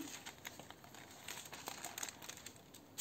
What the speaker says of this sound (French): je vais essayer de mettre ça dans un papier de soie